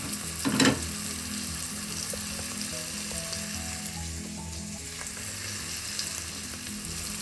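Cauliflower and carrot frying in a pan for vegetable pulao, a steady close sizzle with a sharp burst of hissing near the start as the vegetables go in, then continuous crackle with faint clinks.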